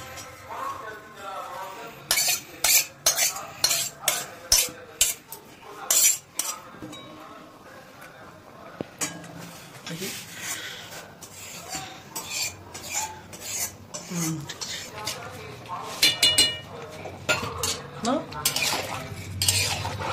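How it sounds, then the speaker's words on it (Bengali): Fried prawns stirred into a spring onion curry in a pan, with a spoon scraping and clinking against the metal in quick, uneven strokes, close and fairly loud, with a light sizzle underneath and a voice talking at times. "এই যে আমরা চিংড়ি মাছ যেটা এর মধ্যে মিক্স করছি"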